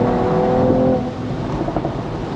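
A Mercedes-Benz E53 AMG, top down, pulls hard at full throttle, its engine note climbing loudly and close for about a second before dropping to a rougher, lower drone as it keeps going.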